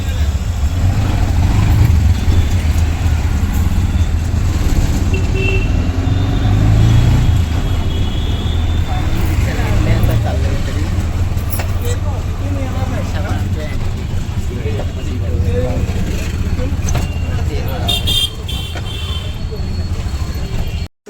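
An auto rickshaw leaving Virar station rumbles steadily with a constant low engine drone and road noise throughout, traffic sounds around it and occasional voices underneath.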